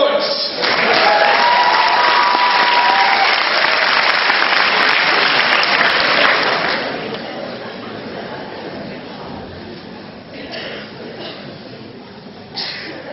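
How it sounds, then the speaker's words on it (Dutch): A contest audience at the Grote Prijs finals gives loud, dense applause to a band for about seven seconds, then the clapping thins out and fades to scattered claps. "applaus voor het aanbijen quintet met een eigen nummer"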